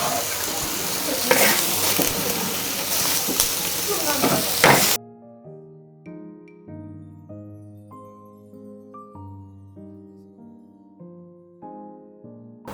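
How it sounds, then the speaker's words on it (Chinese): A wok of spicy dry pot shrimp tossed with coriander and white sesame sizzles loudly, with stirring clatter for about five seconds, then cuts off to soft music. "翻炒均匀就可以了啊。"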